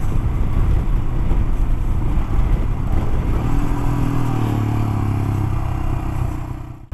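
Royal Enfield Himalayan 411cc single-cylinder motorcycle accelerating, a loud, close, rumbling engine note that holds steady and rises in pitch partway through before cutting off abruptly at the end.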